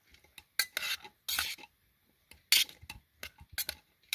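Food stirred in a pot on a camp stove on a hiking trail, a handful of irregular metallic scrapes and clinks with quiet gaps between, close by and alone.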